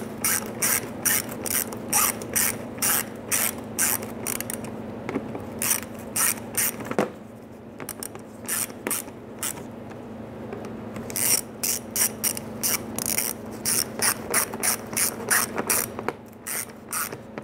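A hand ratchet snugs down the water pump bolts on a 2005-2010 Chrysler 300 in rapid close clicking bursts, pausing briefly between bolts before resuming, over a low steady hum.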